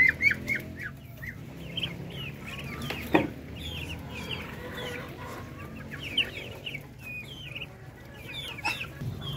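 Darag native chickens and chicks on a farm at feeding time, with frequent high chick peeps and hen clucks scattered throughout, close and lively, no voices.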